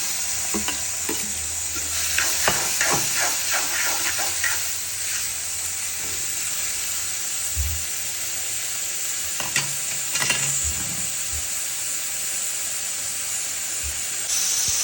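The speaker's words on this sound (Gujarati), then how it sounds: "તો ડુંગળી આપણી સતળાઈ ગઈ છે" Chopped onions sauté in a pan, a constant bright sizzle overlaid with repeated close scraping strokes of a spatula, some quick and rhythmic, others spaced apart, with no talking.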